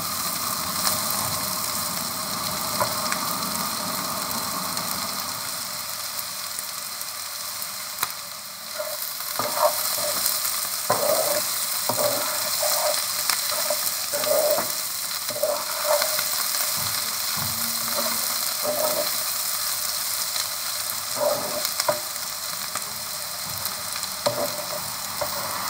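Prawns and onion stalks fry steadily in a pan with a constant close sizzle, broken by scattered clicks and scrapes as the mixture is stirred.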